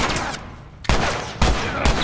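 Gunfire in The Last of Us video game: three sharp, loud shots spaced about half a second apart, each followed by a lingering noisy tail.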